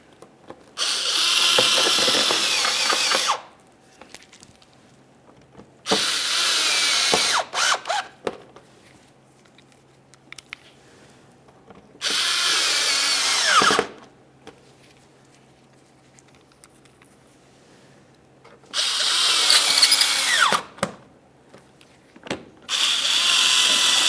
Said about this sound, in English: Now we'll insert our 7mm mounting bolts.